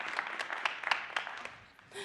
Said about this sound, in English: Give me a hand clap.